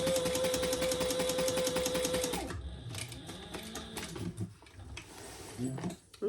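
A sewing machine stitches along the top edge of a leather card wallet, a steady rapid mechanical chatter for a couple of seconds that then stops, leaving quieter handling noises and a faint voice in the background.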